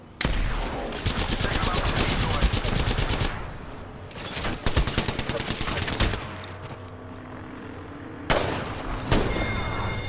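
Rapid automatic gunfire from the video game Apex Legends, loud, dense bursts nearly filling the first few seconds, then shorter volleys with gaps and a final sharp burst, mixed with game sound effects.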